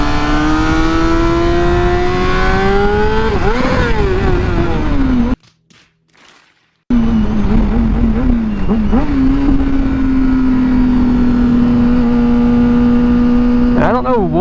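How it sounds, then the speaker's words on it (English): A 2008 Honda CBR600RR motorcycle engine revving loudly up close, its pitch wavering and climbing through several swells, cut by a short near-silent gap before the steady high drone resumes and holds. "Oh God, this bike sounds so good."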